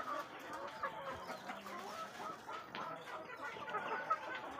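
Chickens at a poultry farm in Dumanjug, Cebu, cluck steadily in a continuous busy chorus, moderately distant, with no one talking.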